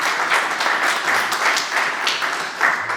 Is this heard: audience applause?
yes